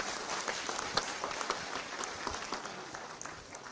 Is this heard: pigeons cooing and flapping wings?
no